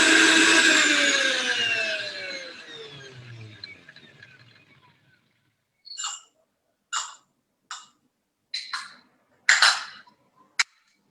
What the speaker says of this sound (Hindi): इन सबको हम मिला के मिक्सी में थोड़ा मिक्स कर लेंगे।